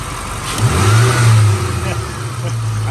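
A 1996 Ford Mustang Cobra convertible, nearly stock, revs its engine in a short blip that climbs and falls back toward idle, loud and close, with a voice talking over it.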